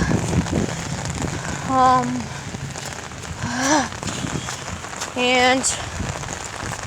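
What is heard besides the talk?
heavy rain falling on an umbrella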